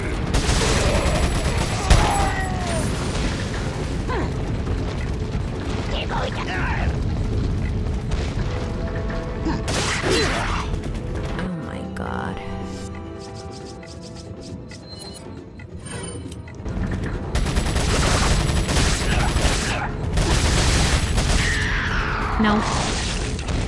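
Gunfire and booming blasts in Resident Evil 4 fill a dense, loud stretch of combat with layered shots and impacts, dipping briefly midway before surging again, with a voice talking over the action.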